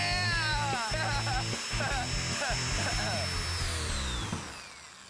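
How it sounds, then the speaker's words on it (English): A power drill spins bicycle wheels in a steady, loud whir with a high rising whine that tapers off near the end, while people talk and cheer over it. "we're gonna make the wheels spin even faster using a drill"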